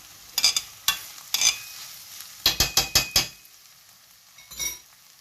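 Sliced onions fry with ginger, garlic and masala for a lamb chop curry, a soft sizzle broken by repeated scraping stirs and clinks of a utensil against the pan, close and fairly loud.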